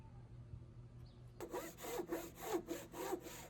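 A hand saw trims a wooden joiner's mallet to size, with close, steady back-and-forth strokes starting after a quiet moment and repeating in an even rhythm.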